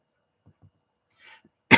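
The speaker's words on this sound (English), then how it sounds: "I coughed yesterday." A woman gives a short burst of coughing after a few faint soft throat sounds, one abrupt loud cough at the end, otherwise near silence.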